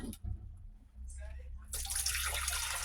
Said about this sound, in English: Now I need to fill this with filtered water again.